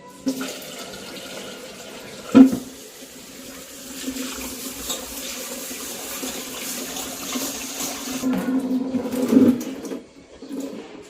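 Water is poured over finger millet (nachni) grains to wash them: a soft, running splash with a sharp knock early on and a louder, fuller pour near the end, with no talking.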